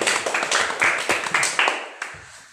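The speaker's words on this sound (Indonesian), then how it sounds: "Tepuk tangan untuk kelompok 1" Students in a classroom clap for a group, a small scattering of hands giving distinct, uneven claps that quickly taper off into a few last strikes.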